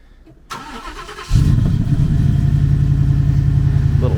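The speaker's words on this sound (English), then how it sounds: "Everyone loves a good cold start on a boosted truck." Boosted truck engine cold-starting on a 35-degree morning: a brief crank, then it catches with a loud jump into a steady, rumbling fast idle that holds close and strong to the end.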